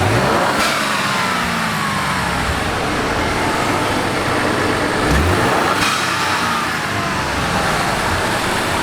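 Ford F-150 EcoBoost turbocharged truck engine revving up and falling back, a loud close mid-pitched roar with a few rising sweeps, the revs broken by quick bursts that fit a blow-off valve venting.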